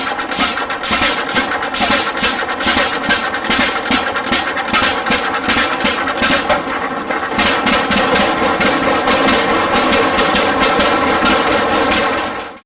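A Waterloo Boy Model R tractor engine runs loud and close, with a rapid, steady chugging beat and clattering mechanical knock throughout, cutting off abruptly at the end.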